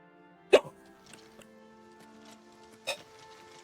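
A game character hiccups in Oblivion Remastered, two sharp isolated hiccups about two seconds apart over a quiet background with faint steady tones.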